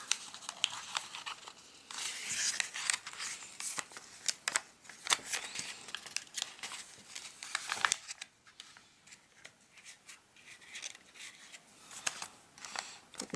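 Paper crinkles and rustles softly and steadily as it is folded and creased into a Lil Chirp origami model, with faint close handling noises and no voices.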